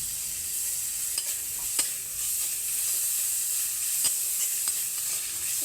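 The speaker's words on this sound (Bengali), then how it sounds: "একটু নেড়ে নিতে হবে ভালো করে, যাতে মশলাটা আর একটু ভাজা হয়ে যায়" Garlic paste, ginger paste and green chili sizzle steadily in hot oil for an eggplant bharta, with a spoon scraping and stirring the pan in occasional sharp strokes; no voices.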